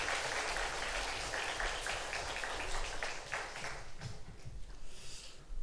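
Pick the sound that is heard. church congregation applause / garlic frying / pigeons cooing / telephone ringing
church congregation applause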